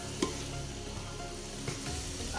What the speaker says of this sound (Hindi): इसको भून लेते हैं अच्छी तरह, कीमा को 5 मिनट तक भूनेंगे, तो फ्लेम मीडियम में रख के